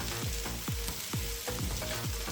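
Swiss steak browns in an electric frying pan, giving a constant close sizzle with a few rhythmic scraping stirs across the pan.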